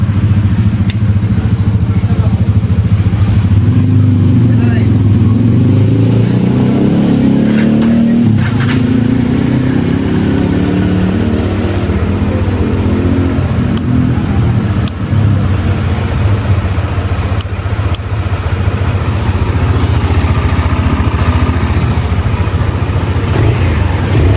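A single-cylinder QJ Motor SRV 200 motorcycle engine idles steadily and revs up a few times, loud and close, with its low throb continuous throughout.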